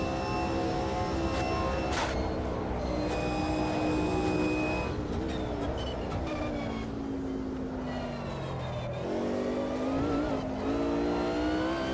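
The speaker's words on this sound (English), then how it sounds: "This car sounds like almost like a generic Mercedes race car in this" A race car engine in the Project Motor Racing sim game revs up and down through gear changes with brief tire squeal, steady and moderately loud, and no voices.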